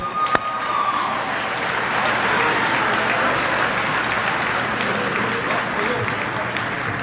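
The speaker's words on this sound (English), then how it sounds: "how about again a great round of applause for our baseball team" A banquet crowd at a senior athletic hall of fame dinner applauds the baseball team, a loud, sustained, even wash of many hands clapping that holds steady throughout.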